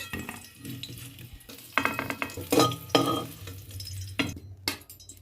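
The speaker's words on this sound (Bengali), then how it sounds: "আমি এবার আলুগুলোকে তো তুলে নেব।" Fried potatoes are lifted out of hot oil in a pan while cooking dhaba-style egg curry, with scraping, clinks of a metal utensil against the pan and a soft sizzle underneath, close and irregular.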